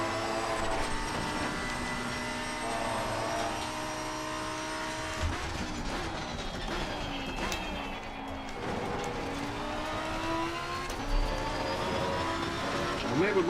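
An Audi race car in Assetto Corsa Competizione drones steadily through a practice session, the engine note sweeping up and down through gear changes, loud and constant throughout.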